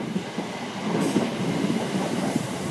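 A Class 321 electric train, unit 321301, rumbles steadily through Shenfield station with a continuous rolling clatter of wheels and a broad hum from near the platform, with no voices.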